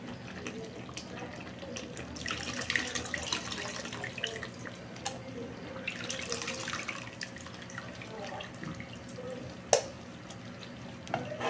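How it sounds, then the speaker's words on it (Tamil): Tamarind water pouring and splashing into a pot of sambar, a steady running wash with a few clinks, close by and moderately quiet. "நம்ம புளி தண்ணி ஊற்றிக்கலாம்."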